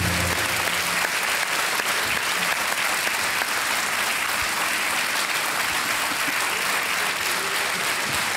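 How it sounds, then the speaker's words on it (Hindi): Studio audience on the KBC (Kaun Banega Crorepati) game show applauding, a loud, dense, continuous clapping that holds steady throughout with no talk over it. "तालियां बजती रहे"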